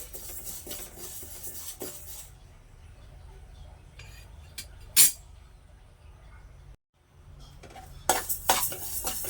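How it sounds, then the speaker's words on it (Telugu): Lentils being dry-roasted and stirred in a pan until golden for jaggery rice pudding, with bursts of utensil scraping and clinking against the pan that drop to a quiet pause before stirring resumes near the end. "ఇట్లా దోరగా వేగేదాకా వేయించుకోవాలండి"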